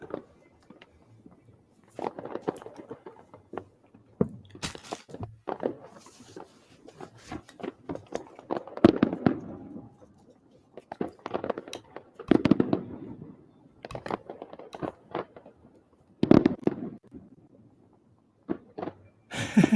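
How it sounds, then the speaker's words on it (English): Fireworks going off through a live New Year's celebration, irregular bursts of sharp cracks and booms with crackling tails, scattered across the stretch at moderate distance with quiet gaps between. "Fake fireworks smells like a Texas truck."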